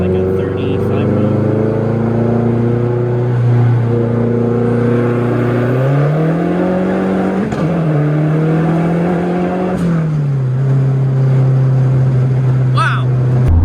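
A Mazdaspeed 3 engine holds a loud, close rev during a brake boost launch, the tone climbing and steadying in stages, with people talking over it.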